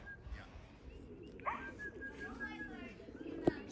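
Racing pigeons coo faintly at a loft on the Big Island of Hawaii, soft murmuring calls over a steady outdoor background with a brief sharp knock near the end, while a voice talks alongside.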